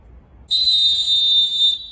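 Survival whistle blown in one steady, piercing shrill blast lasting just over a second, loud and close, starting abruptly and cutting off cleanly with nothing else heard.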